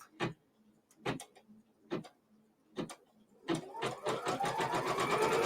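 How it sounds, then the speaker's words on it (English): Quilting sewing machine stitching out a square quilt border: a few slow, separate stitch clunks at first, then it speeds up into a continuous rapid run, heard close and without any voices. "So it is just stitching out my main border."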